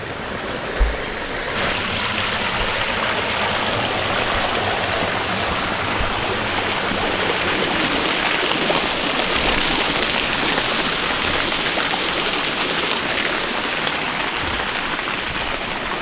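Forest waterfall in the rain on a steep, slippery jungle trail, a steady loud broadband rush of falling water and rainfall running continuously throughout with no talk.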